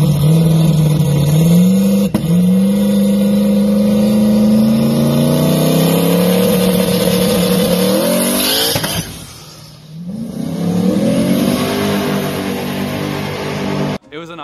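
A drag race car engine on a dyno drones loudly at high revs, its pitch climbing steadily. It drops off suddenly, then revs back up.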